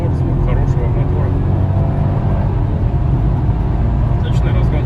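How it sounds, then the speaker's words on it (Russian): Mercedes W211 E500 fitted with a swapped M113 V8 from an S500 W220, accelerating on the road; a steady, loud low engine rumble with road noise runs throughout, with a voice talking over it. "Мотор, звук хорошего мотора."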